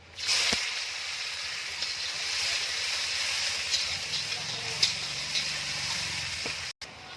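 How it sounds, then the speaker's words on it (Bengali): Raw onions fry in a hot pan with garam masala for a chicken dish, giving a steady, close hiss and sizzle that runs throughout, with faint stirring scrapes and no talk. "হালকা একটু ফ্রাই করে নেওয়ার পর, যাতে ফ্লেভারটা ভালো আসে, তারপর কাঁচা পেঁয়াজগুলো দিয়ে দেবো"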